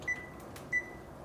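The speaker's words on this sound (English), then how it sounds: "Let's turn my oven on." A kitchen oven being switched on, its control panel giving two short, clear electronic beeps spaced about half a second apart over quiet room tone.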